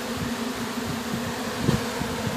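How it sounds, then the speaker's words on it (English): Honeybees from a Lake Wales, Florida cut-out hum steadily inside a box, a close, continuous low buzz with faint flickers of wingbeats and no talk. "Box of bees to go."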